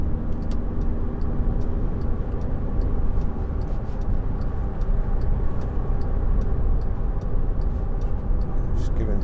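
Inside a 2012 Skoda Yeti 2.0 TDI 4x4 on the move, the turn signal ticks in a steady, quiet rhythm above a constant loud rumble of road and engine noise.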